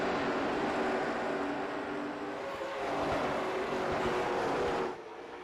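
Race cars roar around a short half-mile oval track in a steady, loud engine drone with shifting pitch as they pass, the sound dropping off sharply near the end.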